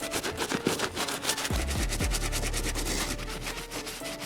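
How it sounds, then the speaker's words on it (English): A soft bristle brush scrubs a sneaker in quick, close rubbing strokes, a rhythmic scratchy swishing with a few soft thumps partway through and a low hum underneath. "All you really gotta do though is really just press the brush inside to get inside all those crevices."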